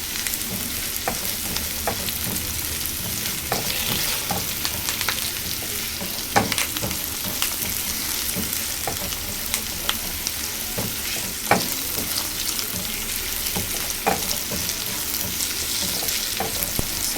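Diced potatoes for sabudana khichdi sizzle steadily in a pan, with occasional sharp scrapes and taps from a spoon stirring them. The frying stays close and constant, with no talking.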